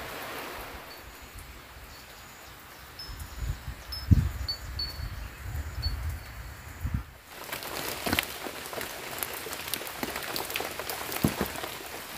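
Steady rain pours on a hut in a forest during a windy downpour, a broad hiss with scattered drips and gusty rustling that grows louder and brighter midway, with no voices.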